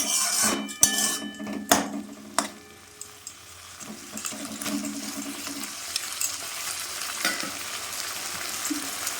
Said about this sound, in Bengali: চিংড়ি মাছটা নেড়ে দিলাম। গ্যাস জোর দিলাম।